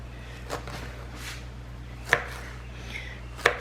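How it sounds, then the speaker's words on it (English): Knife slicing banana peppers into rings on a cutting board, a few sharp separate chops spaced about a second apart over a quiet low hum, close up with no voices. "Then we're just going to slice them up."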